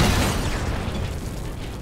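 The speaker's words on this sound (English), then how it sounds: "I figured that explosion would be pretty big." A loud, broad satchel charge explosion roar in the video game Sniper Elite 5 fills the moment, a sustained rumbling boom that slowly tapers without any voices.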